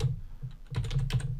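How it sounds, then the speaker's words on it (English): Quick bursts of keystrokes on a computer keyboard as a password is entered, a short run of close, soft clicks in an uneven rhythm with a brief pause midway. "type this password in twice here"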